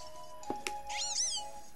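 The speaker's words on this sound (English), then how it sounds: "Don't meow at me!" A cat Pokémon in the video game Pokémon Moon gives a single loud synthesized meow with a rising and falling pitch, preceded by brief game clicks over a faint background tone.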